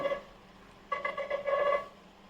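A phone rings with an incoming call, a short electronic ringtone bursting in after a quiet moment and repeating in quick tones for about a second before cutting off; no one speaks.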